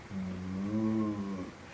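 A single long, drawn-out moo imitated by a human voice, close and steady, rising slightly in the middle before fading out.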